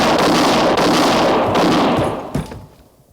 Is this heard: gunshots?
yes